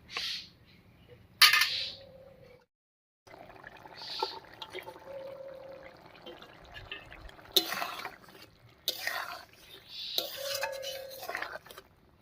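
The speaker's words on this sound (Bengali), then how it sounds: "এবার ভেজে রাখা মাছগুলো দেব" Pieces of fried river fish go into a simmering ash gourd fish curry, making a few wet splashes and clinks of utensils against the pot, quiet and intermittent over a faint background.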